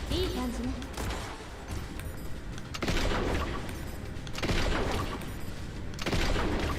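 A javelin weapon fires repeatedly during an aerial dogfight in Wing of Darkness, bursts of rapid mechanical clicking shots in several waves, fairly quiet under game noise with someone talking over it.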